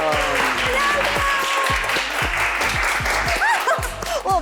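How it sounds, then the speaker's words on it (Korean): Studio audience applause greeting an idol guest on a Korean talk show, a sustained burst of clapping with cheers and bright whoops rising over it, fairly loud and close, with a voice briefly talking over the top. "와, 박수를 진짜 많이 쳐주신다."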